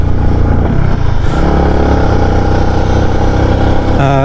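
Loud, close motorcycle engine labouring uphill on the steep Daang Katutubo road, a continuous strained drone with steady harmonic whine throughout and no talk.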